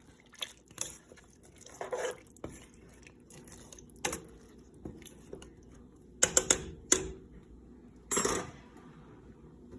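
A spoon clinks and scrapes against a pressure cooker pot while red beans, salt and water are stirred. The taps come in irregular bursts with a faint watery slosh, close and fairly quiet.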